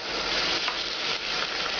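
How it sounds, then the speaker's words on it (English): Cognac poured into a hot pan with browned ossobuco, a steady close hiss of bright, crackling sizzling with no break. "now I'm going to add 1 ounce of cognac"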